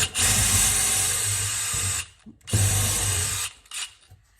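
A DeWalt Xtreme 12V cordless driver whirs loudly in two sustained bursts, each about two seconds, with a short final spin, biting a screw into wood with a number 8 pilot hole.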